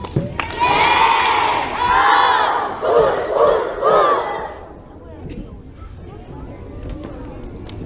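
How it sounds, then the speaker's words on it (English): A school assembly crowd of children lets out a loud, sustained cheer in several rising swells, then fades into scattered chatter and murmuring. "Let's give our guests a big Oxbow cheer."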